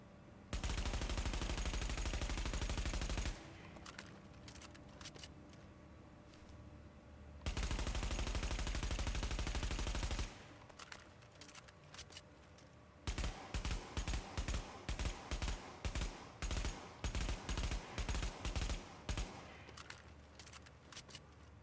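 SMG fire in The Division comes as two long, loud sustained bursts. A later stretch of rapid, evenly spaced shots follows, with quieter gaps between the volleys.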